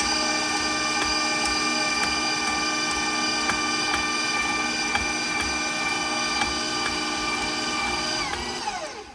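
An electric mixer beating cake batter runs loud and steady with a whirring motor hum, then winds down at the end.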